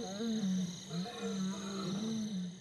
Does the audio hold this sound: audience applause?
no